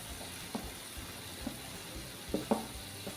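Rawas fish roe (gaboli) fries in hot oil with a constant, even sizzle, punctuated by a few soft taps and stirring clinks of a utensil against the pan.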